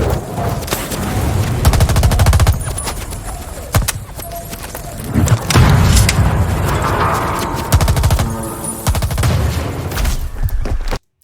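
Gunfire in a shooting video game: loud, dense bursts of rapid automatic shots and single cracks, with brief pauses, continuing throughout with no talking.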